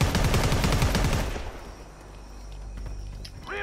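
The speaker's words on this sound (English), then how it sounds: "Let's go with the minigun." A minigun in the video game Predator: Hunting Grounds firing a rapid, loud stream of shots for about a second and a half, then cutting off into quieter ambient noise and scattered sounds.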